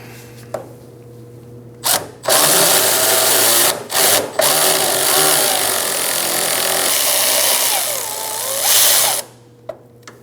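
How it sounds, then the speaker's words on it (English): A ratchet backs a bolt out of a rear sway bar link on a 2009-2017 Audi Q5, first in brief bursts, then in a long, loud, continuous whirring run before stopping. "To finish backing it out, I'll be using a ratchet."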